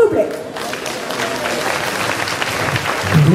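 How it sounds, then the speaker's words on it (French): Audience at a TGS convention cosplay group show clapping for Momoiro Clover Z performers, a steady crowd applause with voices mixed in, a presenter talking at the start and again at the end. "On les applaudit bien fort, s'il vous plaît."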